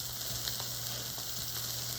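Seared steak sizzling steadily in a hot pan during deglazing, a constant close frying hiss with faint stirring scrapes and a low hum beneath, no voices.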